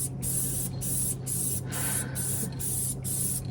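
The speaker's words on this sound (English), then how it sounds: "You just spray the glue on the vinyl." Spray glue applied to a vinyl ceiling panel in a vintage Winnebago RV, several close hissing bursts in a steady on-off rhythm over a low background hum.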